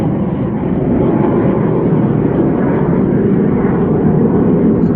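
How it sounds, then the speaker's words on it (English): A loud, steady roar of a fighter jet passing overhead, a broad continuous rumble that fills the whole span with no talk over it. "I'll wait for that fighter jet to pass."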